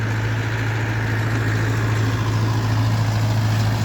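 Farm machinery runs steadily while spreading fertilizer on a wheat field, a constant low engine drone with a strong hum and broadband rushing noise, unbroken and fairly loud throughout.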